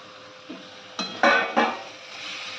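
Drained taro stolons tossed with spices in a pan, heard as a few close metallic scrapes and clanks of a spoon against the pan, bunched together and then fading to a low hiss.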